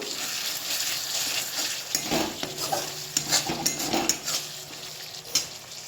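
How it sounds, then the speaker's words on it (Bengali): Masala for a katla fish curry stirred in a pan after resting covered, a sizzling fry with spoon scrapes and metallic clinks growing more frequent in the second half, close up and without talk. "এবারে একটু মশলাটাকে ভালো করে নাড়াচাড়া করে নেব"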